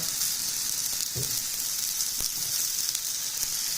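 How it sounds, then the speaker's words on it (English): Apples fry in a hot pan, a steady, even sizzle with a few soft pops and stirring touches throughout, close and moderately loud, no voices. "look at those apples, nice and fried"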